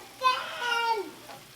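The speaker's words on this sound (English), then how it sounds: "We're letting it sit to saute." Garlic sautéing in a pot for Mexican shrimp soup, a soft sizzle rising briefly to a fuller hiss and easing off, with faint voices in the background.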